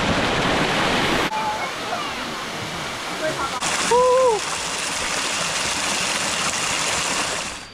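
Waterfall at Erawan in Thailand pouring down tiers of rock, a loud, constant rushing roar close by, with a brief whistle-like tone partway through and a voice talking over it.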